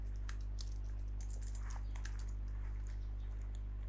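Soft keyboard typing taps out a short search, light irregular key clicks over a strong constant electrical hum, close and without speech.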